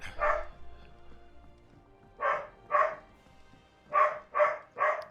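A dog barks indoors in the room, one bark and then a pause, followed by five loud close barks in two quick groups, with no talking over them.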